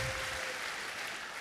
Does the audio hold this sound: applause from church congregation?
yes